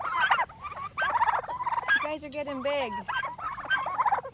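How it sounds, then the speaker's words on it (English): A flock of big meat-bird turkeys, many of them toms, gobble and cluck nearby in a backyard roost, bursts of warbling calls overlapping a voice talking to them. "Big turkeys."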